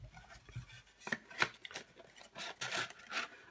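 Paper adhesive flap being folded and creased for a handmade New Year's treat package, heard as a series of short, crisp rubbing and pressing sounds close by, with several distinct scrapes toward the end and no talking.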